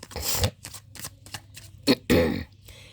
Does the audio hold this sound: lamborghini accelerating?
no